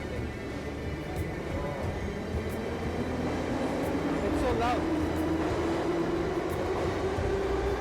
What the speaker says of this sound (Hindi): ये सोवियत टाइम की ट्रेन है।